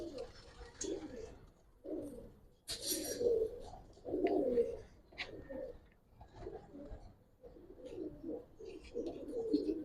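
Giribaz pigeons kept at a breeder's loft coo in repeated swelling bursts over about ten seconds, close and fairly loud, with short pauses between phrases and faint talk in places.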